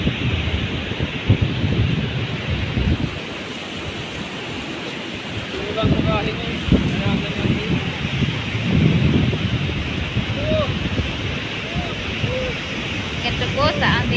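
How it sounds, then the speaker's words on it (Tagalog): Rough sea and strong wind roar together in a continuous wash along a coastline. Wind buffets the microphone, while faint higher chirps and voices sit in the background. "Ito po sa amin pag malakas ang dagat. Lakas ng hangin."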